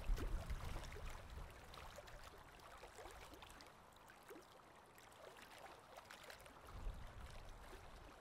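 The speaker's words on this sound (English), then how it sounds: "put all your attention on the sound of the waves" Ocean waves wash in faintly and far off, a soft rolling hiss that swells at the start and again near the end, with gentle trickling between and no voices.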